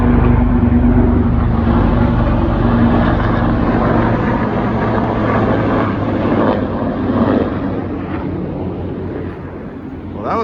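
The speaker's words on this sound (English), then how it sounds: "Those looked like some Apache helicopters flying over." Low, droning rotor and engine noise from Apache helicopters passing overhead, a steady loud rumble that fades slightly toward the end, with no talking.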